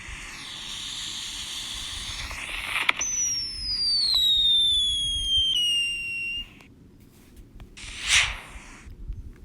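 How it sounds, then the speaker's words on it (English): A firework app plays a short whistle or rocket launch effect: a rising hiss that turns into a bright, slowly falling whistle, then cuts off, followed by a brief crackling burst over steady background noise. "If you swipe up, it's a short whistle or a rocket launch."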